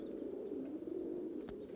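Pigeons coo in a low, steady murmur in a loft of flying pigeons, close and continuous, with a brief soft thump near the end.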